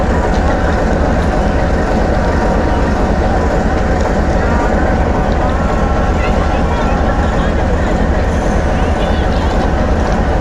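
The Khushhal Khan Khattak Express passenger train sits at a station platform, a loud, constant rumbling roar of rail noise and crowd din that continues without a break, with voices mixed underneath.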